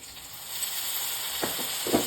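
Ginger, garlic and green chilli paste hits hot oil already holding ground cumin, chilli and coriander powder, producing a steady hissing sizzle close by, with a couple of soft stirring scrapes near the end.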